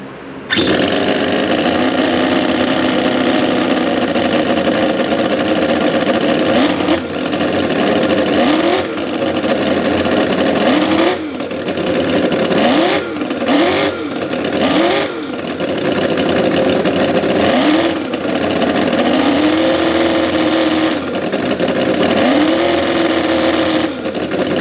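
A Stinger 609 engine in a 1/4 scale Grave Digger monster truck runs steadily with a buzzy, high-pitched note and repeatedly rises and falls in quick throttle blips while being tuned.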